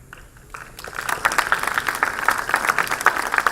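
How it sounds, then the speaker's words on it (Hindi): Clapping from an audience welcoming guests at a university one-day workshop on Earth's atmosphere. It starts quiet, then swells into loud, sustained applause from about a second in. "जोरदार तालियों के माध्यम से स्वागत करते हैं इस नए आगाज का"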